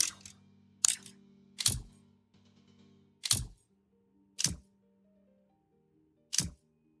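Six crisp switch clicks from the Roblox game ring out one at a time at uneven intervals, each a sharp, loud snap over a faint low tonal hum.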